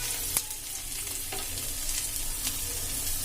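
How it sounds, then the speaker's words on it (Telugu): Chopped ginger pieces fry in hot oil in a pan for tiffin-centre style upma chutney, giving a steady close sizzle with occasional light clicks from stirring and no talking. "ఈ అల్లం ముక్కలు అనేవి వేగిన తర్వాత"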